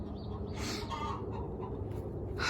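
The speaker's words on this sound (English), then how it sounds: "Being serenaded by a hen laying an egg." A hen clucking after laying an egg in a garden where chickens roam freely, giving several loud bursts of cackling calls spaced irregularly over a constant low background hum.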